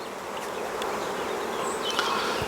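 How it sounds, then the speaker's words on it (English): Honey bees buzz steadily around a nuc hive, a dense continuous drone close by with individual bees passing near now and then. "Bees are quite calm. I'm just having a look at the adult bees."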